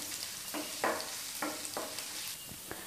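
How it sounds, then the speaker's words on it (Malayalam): Chopped garlic and ginger sizzle in hot oil in a pan while being stirred, a steady close frying hiss broken by several distinct scraping strokes of the spoon. "ആദ്യം ഇതൊന്ന് മൂക്കുന്ന വരെ ഒന്ന് ഇളക്കി കൊടുക്കാവേ."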